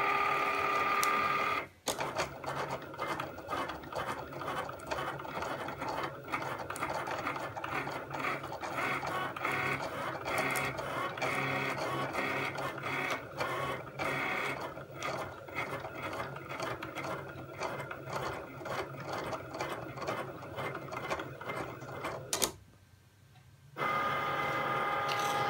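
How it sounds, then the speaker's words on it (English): A Cricut cutting machine works through cardstock with a continuous mechanical whir and rapid ratcheting clicks, running steadily close by before a brief pause near the end. "And then we press the flashing Cricut key to start the process."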